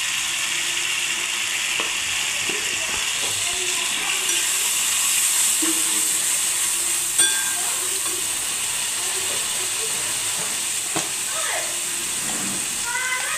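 Ground spices with turmeric and chili powder being stir-fried in a pan: a steady, close hissing sizzle runs throughout, with occasional soft clinks and scrapes, no talking.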